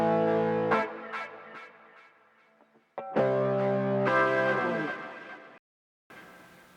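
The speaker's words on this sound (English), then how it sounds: "you'll see the guitar chords" Electric guitar chords panned to the left in a mix, a few strummed chords ringing out with sustain and decay, a brief gap, then further strums cut off abruptly before a short final burst.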